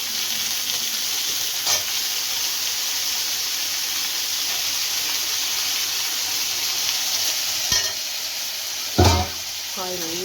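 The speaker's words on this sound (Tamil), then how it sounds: "காய் நல்லா வதங்கணும் கொஞ்சம்." Brinjal, drumstick and beans fry in a pan for vegetable sambar, a steady bright sizzle throughout with a few louder clinks and stirring scrapes near the end, heard alone without talk.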